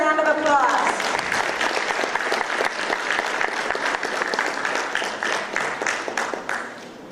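Sustained, dense applause from a school board meeting audience for EL graduates, many hands clapping steadily for several seconds and slowly fading.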